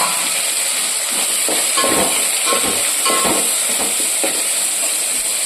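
Curry leaves dropped into hot oil, giving a steady hissing sizzle with a few brief crackling bursts near the middle, close and continuous without talk.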